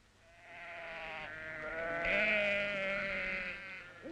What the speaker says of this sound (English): The sheep from which the wool comes somehow thrive on the desolate Anatolian plains